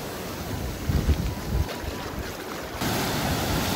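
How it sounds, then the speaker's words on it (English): Big ocean waves roll and break on the beach at Cocoa Beach, Florida, a loud continuous wash of surf with heavy wind noise buffeting the microphone and a surge as a larger wave crashes near the end. "Oh, some big waves."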